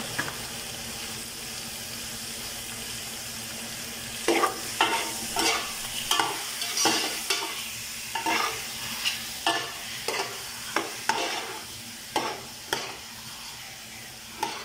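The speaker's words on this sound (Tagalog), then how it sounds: "igisa na natin ang manok. Kaya lakasan ang apoy para magisang-gisa siya." Chicken sautés over high heat in a hot pot for pininyahang manok, a steady sizzle under a series of regular scraping stirs that begin partway through, each stroke a distinct clatter against the pot.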